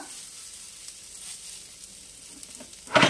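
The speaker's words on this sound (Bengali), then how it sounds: "লো করে এইগুলো দিয়ে দেব, একটু সেঁকে নেব।" Snack ingredients toast gently in a dry, oil-free pan over low heat, a faint soft sizzle that swells into a louder burst of crackle near the end.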